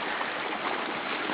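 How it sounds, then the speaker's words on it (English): Water rumbles beneath a frozen creek in a steady, broadband rushing, close and continuous like a flushing toilet, with no talk over it. "We can even hear it rumbling up from the frozen creek"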